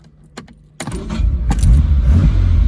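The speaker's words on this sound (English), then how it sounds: "So while we're in here, I'll start her up." A 1958 Aston Martin DB Mark III comes to life: keys rattle, the starter clicks, then the engine catches and settles into a loud, steady, close-up idle.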